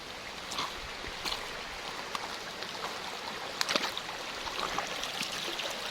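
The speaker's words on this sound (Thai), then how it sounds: "นี่ฮะ ลำธาร น้ำใส ๆจากน้ำตกของมะเดือ" A clear stream flows from the Maduea waterfall in rural Nakhon Nayok, a soft, steady wash of running water with faint splashes and no voices.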